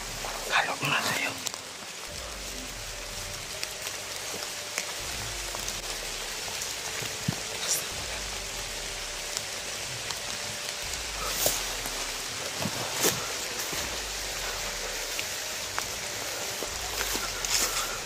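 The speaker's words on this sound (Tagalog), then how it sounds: "Lakas na ng ulan." Heavy rain falls steadily in a dense, hissing wash, with occasional louder drops and patter close by; people talk and murmur under the downpour.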